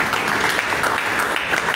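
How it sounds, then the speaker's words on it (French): A church congregation claps and cheers in a dense, continuous burst of applause, fairly close and lively throughout. "Acclame pour Jésus."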